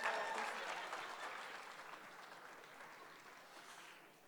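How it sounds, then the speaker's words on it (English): Crowd applause at a school talent show as host Steve Wrigley takes the stage, a steady wash of clapping that slowly fades over several seconds. "Thank you for stopping the applause just as you saw me"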